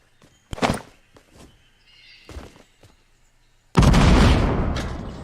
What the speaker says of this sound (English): I'm blowing up his structure.